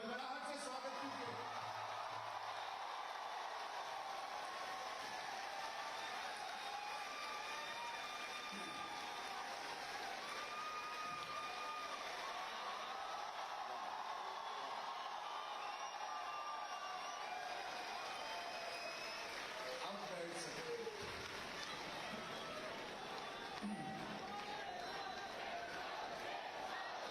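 Outdoor crowd at an environmental event with Sadhguru and Chief Minister Yogi Adityanath, a long steady wash of applause and cheering with scattered shouts, a few louder bursts near the end, mixed with background voices.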